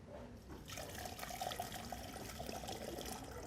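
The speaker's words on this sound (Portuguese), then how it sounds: "Vou mostrar como a água escoa" Water pours steadily down a drain fitted with a cut piece of mosquito screen, a continuous close splashing trickle that starts softly and then runs at full, even flow.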